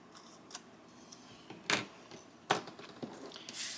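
Scissors trim the bottom edge off a vintage flash card, giving a few sharp, separate snips spaced apart, close and fairly quiet.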